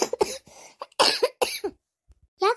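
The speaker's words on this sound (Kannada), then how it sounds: "ಯಾಕವ್ವ ಯಾಕೆ ಕೆಮ್ಮಕತ್ತಿ?" A woman coughs in a run of sharp, loud, close bursts, pausing briefly before a final cough.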